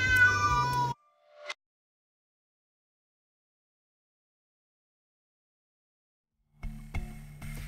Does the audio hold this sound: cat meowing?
yes